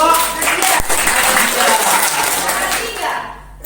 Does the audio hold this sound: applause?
yes